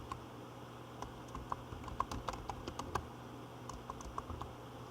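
Light typing on a computer keyboard, a series of soft, close keystrokes at an uneven pace over a steady background hum, with no talking.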